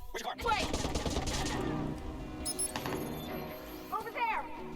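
Gunshots from the video game Watch Dogs, a few sharp bursts against game sound effects and background noise, with a voice talking over the action.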